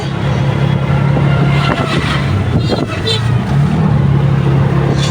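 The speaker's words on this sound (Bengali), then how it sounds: "এই সিএনজি করে আমরা আমাদের বাসায় যাচ্ছি" Passenger ride inside a CNG auto-rickshaw on a cold, windy day, with a loud continuous engine drone and road rumble, a few rattles and bumps, and wind noise throughout.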